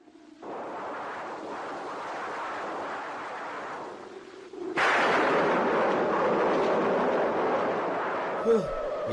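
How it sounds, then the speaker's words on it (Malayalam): Roaring wind and rain sound effect for a radio drama about a flood, a steady broadband rush that suddenly swells louder midway and keeps blowing to the end. "എന്തൊരു കാറ്റും മഴയുമാ ഇത്."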